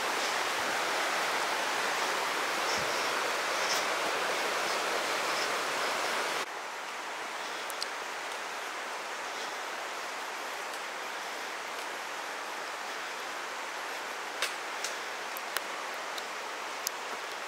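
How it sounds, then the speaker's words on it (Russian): A forest stream on a mountain hiking trail over the Aishkho pass flows with steady broadband rushing and babbling, close and continuous, with a few faint clicks and rustles on top and no voices. "Так, тут ручей."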